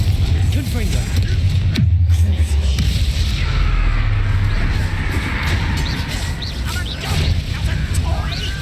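A Confringo fire spell in Hogwarts Legacy bursts against a constant loud backdrop of combat rumble and clatter, with a sharp blast near two seconds and continuing crackling impacts throughout.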